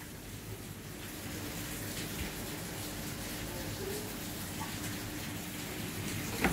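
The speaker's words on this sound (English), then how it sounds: "it's raining really softly, but thick" Steady, soft rain hiss with a dense patter, constant throughout and fairly close, with no voices.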